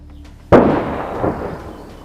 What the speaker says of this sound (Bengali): ঠিক সেই মুহূর্তেও আকাশ থেকে ঝরছে বোমাবর্ষণ